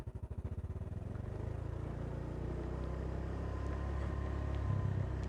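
Automatic scooter motorcycle engine laboring up a steep village track, a steady low drone that starts with pulsing chugs and holds loud and close throughout.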